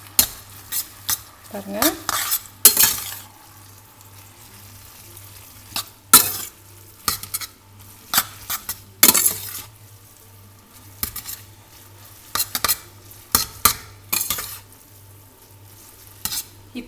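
Sausage fried noodles being stir-fried and mixed in a pan: repeated bursts of scraping and tossing with spatula clanks against the pan over a low continuous hum, with a brief word spoken.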